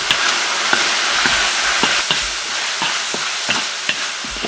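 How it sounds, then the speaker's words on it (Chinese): Pork and green beans stir-fried in a pot with spices, dried chili and soy sauce: a steady loud sizzle with repeated scraping strokes of a spatula against the metal, no voices. "把豆角洗干净，和肉一起炒"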